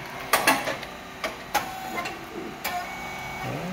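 Rice cake machine SYP4006 with Teflon-coated moulds cycles through a few sharp mechanical clacks and pops, spaced irregularly over a low steady hum.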